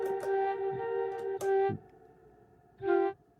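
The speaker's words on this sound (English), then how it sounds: "I'm using this flute sound." A breathy synthesized flute tone from a Mellotron holds steadily, cuts off, then returns briefly after a pause, with a slightly processed, effected quality.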